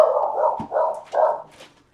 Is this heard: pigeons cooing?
no